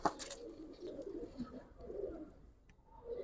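Giribaz pigeons in a loft give soft, low cooing calls, a few quiet murmuring phrases close by with a brief higher flutter at the start, no one speaking.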